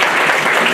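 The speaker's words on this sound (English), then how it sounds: "Give them all a round of applause." Applause from a panel audience welcoming the guests, a steady dense clapping that fills the whole moment with no voices over it.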